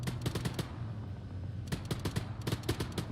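Enemy machine gun fire in a military video game, rapid bursts of shots in two or three clusters, fairly loud over a steady low rumble of ambient battlefield noise.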